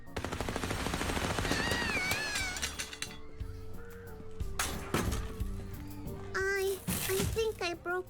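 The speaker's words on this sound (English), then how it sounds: "the machine gun shot apart the game stall" Machine gun fire shooting apart a carnival game stall in the video game Little Misfortune, rapid bursts mixed with game sounds and a voice speaking over parts of it, with music tones in between.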